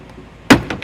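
Plastic interior trim piece on a 2013 Toyota RAV4 pried up with a pry tool, giving a sharp close snap followed by a second softer click, with no talking.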